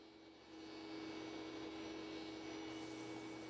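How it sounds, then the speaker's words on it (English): A table saw with a crosscut sled spins up and cuts cabinet tops for a Kreg jig cabinet, a steady loud whine and roar that builds after a quiet start and holds through the cut. "We're going to cut the tops right now,"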